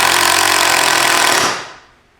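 A power drill drives a screw at a diagonal angle into a cheap DIY desk frame, a loud steady whirring buzz running for about a second and a half before winding down and stopping.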